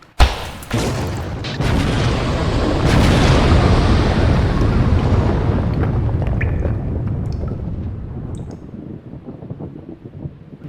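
A big boom from a cartoonish explosion, the kind of gore burst where a body blows apart, hits with a sharp crack, then a long loud roaring rumble slowly fades over about ten seconds.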